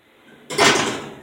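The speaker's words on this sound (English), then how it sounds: "We're going to open the oven." A kitchen oven door swings open with a sudden clunk followed by a short rushing hiss, close and loud after a quiet moment.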